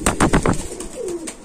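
Bombay pigeon cooing while held in a hand, a close series of rapid throaty coos in quick pulses followed by a softer trailing call, with no voices.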